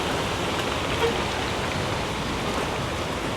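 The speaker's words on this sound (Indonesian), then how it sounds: "Hujan teman-teman." Steady rain hissing evenly on surfaces, a continuous wash of noise with no pauses or voices.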